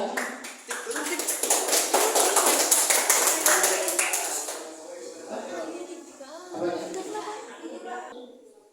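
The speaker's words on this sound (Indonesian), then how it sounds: "Tepuk tangan untuk kelompok 2." A classroom audience applauding a student group about to present, a dense burst of clapping for about four seconds that fades, followed by talking.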